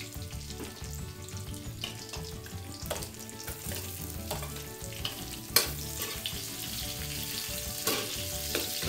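Onion added to ginger frying in a pan for Filipino totsong bangus, a steady close sizzle with occasional stirring scrapes and pops.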